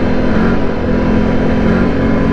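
A Can-Am vehicle's engine revs hard while warming up from cold, a loud, steady, continuous drone holding at high RPM throughout, close to the microphone with no talking.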